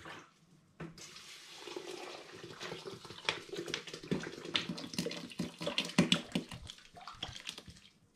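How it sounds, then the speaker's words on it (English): Spring water poured into brewing pans while making an all-grain chocolate porter; a steady rushing, splashing pour close by that builds and churns for several seconds. "I'm then going to add into my pans spring water, and I want to top them both up."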